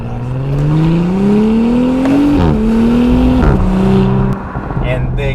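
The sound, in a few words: 2018 Audi SQ5 accelerating 0 to 60 with exhaust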